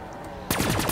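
Porter's X2 ray gun fires in Black Ops 3 Zombies on the Giants map: after half a second of quiet background, a rapid burst of loud, sharp repeated shots crackles.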